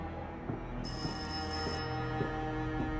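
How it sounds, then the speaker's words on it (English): A telephone rings in the horror game Rise of Insanity, a steady trilling bell over a low ambient hum, repeating in short bursts at moderate loudness with no talk over it. "The phone's ringing."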